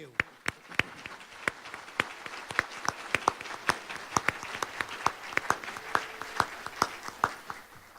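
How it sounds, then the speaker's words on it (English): Audience clapping at the UW Oshkosh alumni awards celebration, a steady round of sharp hand claps from the crowd, fairly close and continuous, with some talk underneath. "Please, let's have a round of applause for you."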